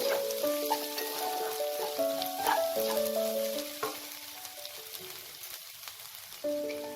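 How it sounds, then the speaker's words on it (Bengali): Kashmiri red chili powder and turmeric fry in hot oil in a pan while being stirred for a few seconds, giving a fine steady sizzle that rises and eases, with background music playing over it. "1 teaspoon Kashmiri red chilli powder, 1 teaspoon হলুদ গুঁড়ো দিয়ে আমি এটাকেও আর একটু কয়েক সেকেন্ডের মতো একটু নাড়াচাড়া করব"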